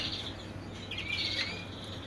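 Young canaries just leaving the nest chirp in a cluster of faint, high tweets over a steady low hum, with no voices.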